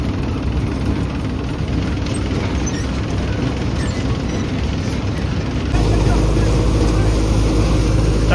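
A groundnut thresher runs with a tractor bringing in crop bundles, a loud continuous mechanical drone that swells partway through, with a voice speaking over it.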